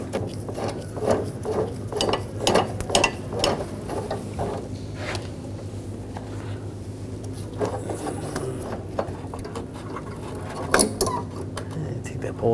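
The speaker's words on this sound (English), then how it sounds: "Now I'm gonna use a 16mm socket, loosen up the bolt." A 16mm socket wrench loosens a fuel tank strap bolt on a Nissan Rogue, giving a run of quick ratcheting clicks that is steady at first and then scattered, with faint mechanical clatter around it.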